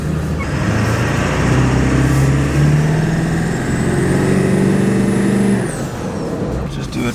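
A tuned Ford 7.3 Powerstroke diesel truck pulls away in a quick takeoff, its loud engine climbing steadily in pitch for several seconds, then easing off with a brief hiss near the end.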